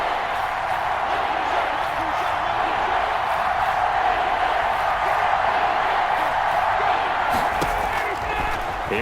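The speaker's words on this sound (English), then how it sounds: "the crowd getting into it as we come up on a big" A simulated stadium crowd in the Madden 21 football video game roars steadily before a big third down, a loud sustained wash with swelling cheers and faint talk underneath.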